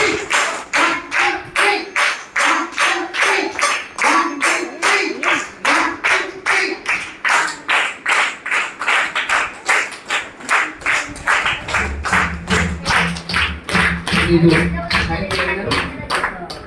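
A group claps nonstop in rhythmic unison at a felicitation event, loud sharp claps in a steady beat of roughly two per second, with a low voice or murmur joining toward the end.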